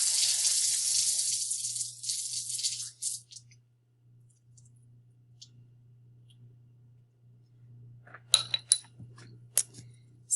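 Tap water runs hard at a sink to rinse reacted magnesium, a steady broad rush for about three seconds, then quiet with a low hum and scattered clicks and clinks near the end.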